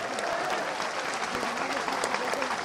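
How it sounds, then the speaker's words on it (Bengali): An audience at a political gathering claps loudly and steadily throughout, a dense, continuous roar of hands with a voice faintly audible underneath. "ধন্যবাদ দেন জোরে হাততালি দিয়ে"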